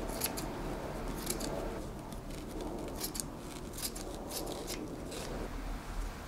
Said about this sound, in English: So we're going to cut all of that back.